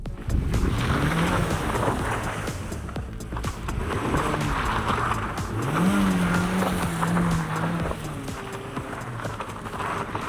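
A Mazda MX-5 Miata is driven sideways in first gear with stability control switched off. The engine note rises and falls while the tyres squeal intermittently at close range, and there is no speech.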